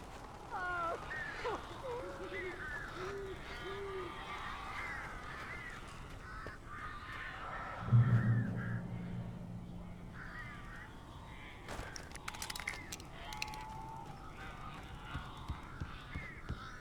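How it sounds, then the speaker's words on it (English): Crows caw repeatedly in the Alan Wake video game, harsh calls scattered through the scene beside a low ambient drone, with a brief thud partway through and faint clicks near the end. "These birds are weird."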